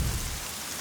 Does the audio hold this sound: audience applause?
no